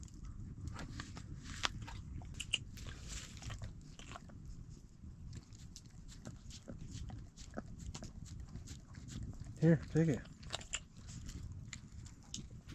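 A farm animal, likely a horse, crunches a Michigan-grown apple outdoors at a bushcraft camp, with a burst of loud close biting near the end over steady low rustling, and a brief spoken offer beforehand.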